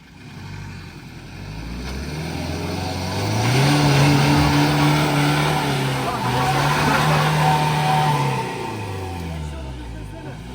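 A car stuck in swamp mud while on a fishing trip, its engine revving hard and rising to a loud sustained roar before easing off, with people's voices shouting under the engine noise.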